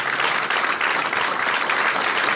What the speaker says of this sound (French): J'aimerais vous demander d'applaudir très chaleureusement Madame Mireille pour cette initiative avant d'aller plus loin.